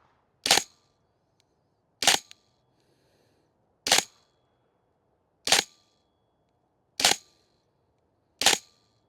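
Airsoft gun firing BBs at a range, six sharp snapping shots spaced about a second and a half apart, each crisp and isolated against near silence.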